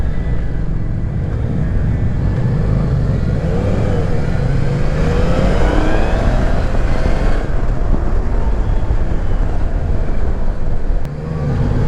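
A Yamaha Niken 900 three-wheeled motorcycle engine pulls smoothly at low revs, around 2500 rpm in fourth and fifth gear, as a steady loud drone mixed with heavy wind rush from riding, no talking.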